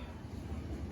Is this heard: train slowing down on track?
yes